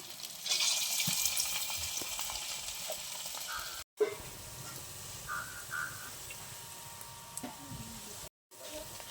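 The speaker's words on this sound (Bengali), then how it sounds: "তেলটা গরম হয়ে গেছে। আমি এবারে একটা একটা করে কোপ্তাগুলো ভেজে নেব।" Pumpkin koftas fry in hot oil with a steady, fairly close sizzle, loudest at the start, broken by two brief silent gaps and a few light knocks of utensils.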